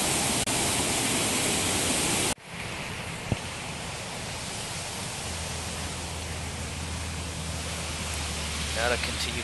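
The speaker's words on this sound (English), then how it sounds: "As you can see, that is a very powerful waterfall." A powerful waterfall in Valdez, Alaska, heard as a broad, steady roar of rushing water. The sound is loud at first, then abruptly shifts to a slightly different, constant wash with a low hum and a faint click.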